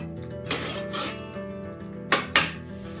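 Chicken masala with tomatoes is sautéed on high heat in a pan, with metal spoon scrapes and clinks against the pan over a low background, two sharper knocks near the end.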